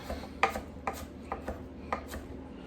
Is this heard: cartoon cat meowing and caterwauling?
no